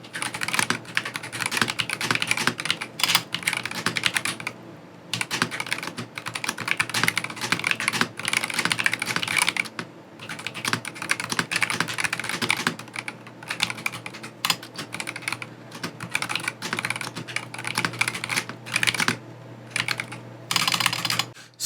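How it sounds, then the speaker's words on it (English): Someone types on a GamaKay TK75-HE magnetic keyboard during a typing test. Rapid, close clacking keystrokes come in bursts with brief pauses and no talking. "So now let's try a little typing test over here on Monkey Type."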